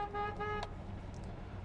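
The horn of a 1968 Chevrolet El Camino gives two short, close toots in quick succession, followed by a low engine-like background hum.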